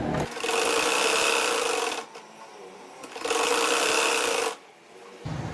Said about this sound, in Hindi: इसलिए हम इकट्ठी सिलाई लगा रहे हैं।